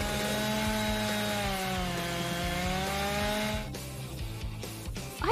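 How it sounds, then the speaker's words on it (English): A chainsaw cutting wood while a folding castle is being built, its engine whining at a steady pitch up close, then cutting off into a quieter stretch of shuffling handling noise. "Now I can break out the chainsaw!"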